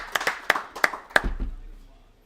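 A short, scattered round of applause for Mackenzie at a bowling alley: a handful of sharp, uneven claps from a few people over about a second, then fading into room noise.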